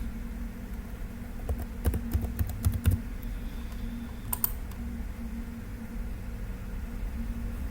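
Bursts of keystrokes on a computer keyboard as a password is entered for a software install, quick clustered taps in the middle then a brief final flurry, over a steady low hum with no talking.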